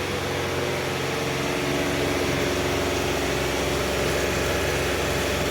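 A John Deere compact tractor engine, 3039R or 1025R, runs steadily at about 560 PTO speed, a loud, constant drone with no breaks and no voices.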